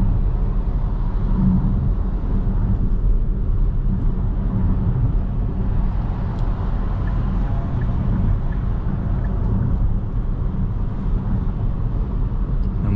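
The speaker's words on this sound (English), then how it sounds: "I'm now on the highway, so I'm driving 110 kilometers an hour" A 2022 Kia EV6 GT-Line electric car cruising on a highway at 110 km/h, heard from inside as a steady, deep road and tire rumble with a constant wind hiss.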